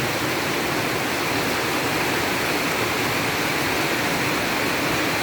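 Heavy rain pours down in a dense, constant roar, loud and unbroken with no other sounds cutting through, during a thunderstorm.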